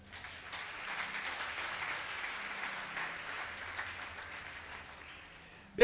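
A church congregation claps steadily after the Gospel reading, a sustained wash of applause from many hands that holds evenly before ending.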